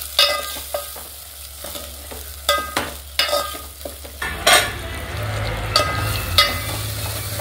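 Ginger garlic paste fries in a pan for a mutton curry, giving a steady close sizzle broken by repeated sharp clinks and scrapes of a spoon stirring, with the frying growing louder and denser partway through.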